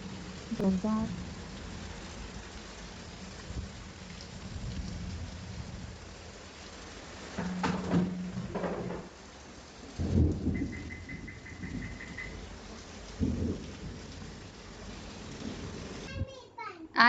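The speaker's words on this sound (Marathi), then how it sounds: "पाऊस चालूच आहे" Heavy rain pours steadily while thunder rumbles in several bursts, and adults and someone talk over the downpour.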